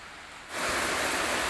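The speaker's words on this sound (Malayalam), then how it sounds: "നല്ല ശക്തമായിട്ടുള്ള മഴയാണ് കേട്ടോ. ചെറിയ കാറ്റുമുണ്ട്." Heavy rain with light wind starts abruptly and builds into a loud, dense, continuous roar that carries on steadily after a quieter opening moment.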